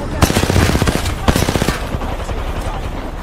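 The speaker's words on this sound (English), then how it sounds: "They're shooting me, guys." Rapid automatic gunfire from an Apex Legends match, loud and close, with dense bursts of shots giving way to scattered, quieter firing.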